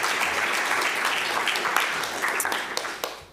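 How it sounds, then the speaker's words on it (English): Audience applause for a speaker being introduced at a talk, a steady wash of many hands clapping that holds for several seconds and thins toward the end, with a few sharper individual claps near the close. "Please give a round of applause to Yann."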